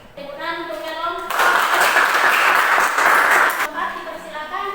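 A class of students claps for a presenting group: after a brief stretch of voices, a burst of dense hand clapping rises and holds for about two seconds, then fades back to speech.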